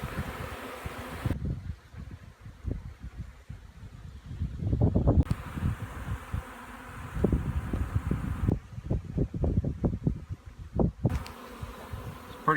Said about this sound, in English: Pretty windy today, so they're kind of having a hard time locating the scent